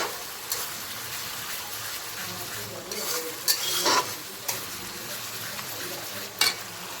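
Ginger paste and spices being stirred in a hot pan while cooking chicken, a steady scraping sizzle with a few louder spoon scrapes standing out near the middle and toward the end.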